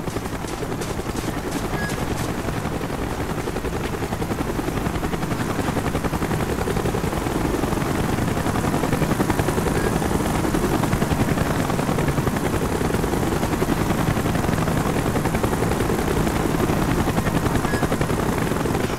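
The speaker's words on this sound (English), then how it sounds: "Chopper's inbound!" A military helicopter approaches in a Call of Duty Black Ops campaign mission, its loud, steady rotor thump and turbine roar filling the scene continuously and swelling slightly as it draws nearer.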